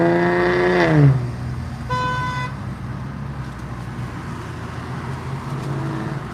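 Inside a Toyota Supra fitted with a muffler, a steady engine and road drone fills the cabin as a BMW tries to pass, opening with two short horn toots before the rumble carries on alone.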